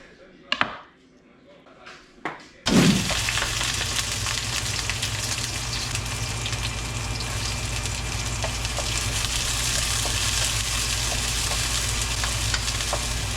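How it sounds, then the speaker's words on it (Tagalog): Onion and garlic hitting a hot oiled pan and sautéing, with a sudden loud sizzle that settles into a steady, close frying hiss, preceded by a few soft kitchen clatters. "Ginigisa ko na yung buyas at bawang."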